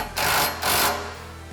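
A power tool tightens bolts on a rear bumper of a Polaris RZR XP 1000 ATV, giving two close, loud buzzing bursts, the second following closely after the first, with a quieter tail.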